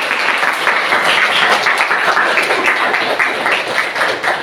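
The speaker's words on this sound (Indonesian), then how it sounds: "Beri tepuk tangan kepada Sa." Students in a chemistry classroom give a classmate a round of applause, a loud, dense and continuous clatter of many hands that fills the room with no talking over it.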